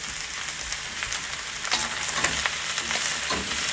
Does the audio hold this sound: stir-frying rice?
yes